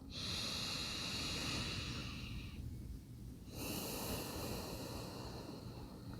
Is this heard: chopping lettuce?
no